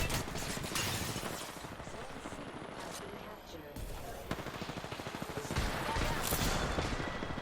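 Rapid bursts of automatic gunfire crackle through a firefight in the video game Apex Legends, loud and close in dense volleys with brief pauses. A player's voice can be heard now and then.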